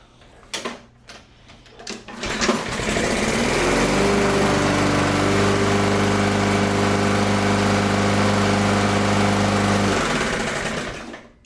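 A Toro lawn mower engine with a fault is pulled over with a few rough cranking sputters, then catches and runs loud and steady for several seconds before cutting off; no talking.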